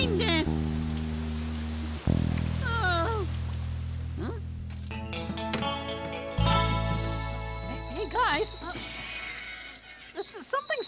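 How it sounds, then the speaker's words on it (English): Rain falls in a children's nature TV episode, mixed under playful musical tones, cartoonish sound effects and voices, with the soft patter running throughout. "Rain coming, yay!"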